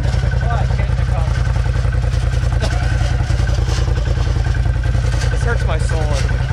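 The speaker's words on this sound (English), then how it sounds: "What is that sound? The sound is the clutch and the cover." Damaged Polaris RZR side-by-side engine with a broken clutch and cover, clattering and knocking in a rapid, steady mechanical rhythm at close range while idling on the dunes, with voices talking over it.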